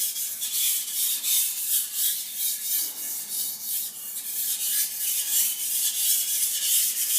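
Knife blade stroked straight back and forth on a Shapton Ceramic Pro whetstone, a steady run of close, soft rasping scrapes in even rhythm with no talk.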